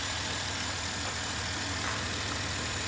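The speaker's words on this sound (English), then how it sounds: "Now it's idling nice." A 2008 Dodge Caravan minivan engine idles at a steady, low, continuous hum, sitting fairly quiet and even throughout with no one talking.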